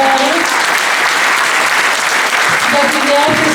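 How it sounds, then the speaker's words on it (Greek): An audience at a Greek choir and orchestra performance claps loudly and steadily throughout, with a dense, sustained sound of many hands. "Ένα λεπτό χειροκρότημα στην δασκάλα του μουσικό μας, Μαριλίνη Μπέρι"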